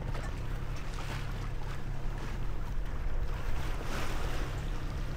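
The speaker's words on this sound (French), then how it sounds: "La mer, elle est un petit peu croisée." Choppy, crossed sea after several days of wind, heard aboard a sailboat off Greece between Preveza and Paxos: steady broadband wash of waves and water against the hull with low rumble and wind buffeting, continuous and fairly loud.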